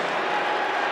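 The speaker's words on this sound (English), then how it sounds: "Listen to the crowd now." A basketball arena crowd roars in a dense, sustained wash of cheering that fills the whole brief moment, loud and without pause.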